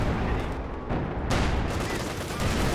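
Anti-tank gun fire and battle noise in the video game Company of Heroes 2, a dense continuous roar of shots and blasts at a loud level throughout.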